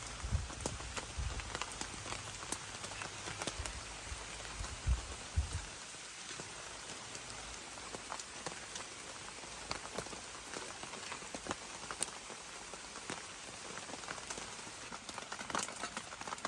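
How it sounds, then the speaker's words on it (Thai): Heavy rain pours steadily onto a forest, a dense, continuous hiss of drops on leaves and ground that stays even throughout, with a few louder close spatters and no voices. "ตอนนี้ฝนก็ยังตกไม่หยุดพี่ น้ำวันยิ่งตกหนักขึ้นมากว่าเดิมนะครับผม"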